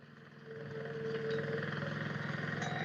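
A tractor working a farm field, making beds for summer groundnut sowing, gives a steady, moderately distant engine drone with a fine rhythmic pulse that holds evenly throughout.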